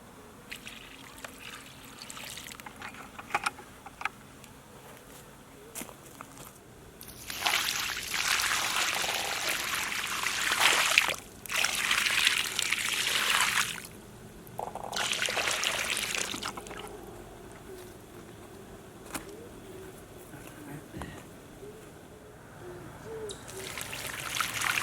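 Water pours and trickles into a planting hole around a fruit tree in intermittent bursts, a splashing, gurgling flow that starts and stops several times over quiet outdoor background.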